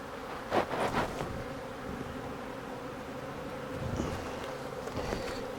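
Honey bees buzz steadily around an open hive as a beekeeper splits a small nucleus colony using swarm cells, a dense continuous drone with a few louder passes near the microphone.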